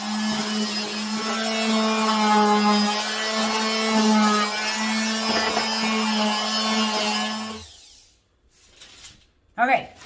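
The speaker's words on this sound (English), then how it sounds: "medium sandpaper number 80 here, and I'm just gonna scuff it up a little bit just to give it a little bit of a worn look" An electric sander with a dust bag works the edges of a wood piece using 80-grit sandpaper, a steady droning whine that runs close for most of the clip before stopping, followed by brief handling noise.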